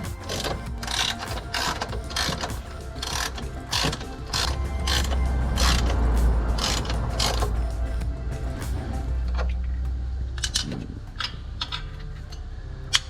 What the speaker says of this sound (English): take our ratchet with our 17 mil and hand tighten everything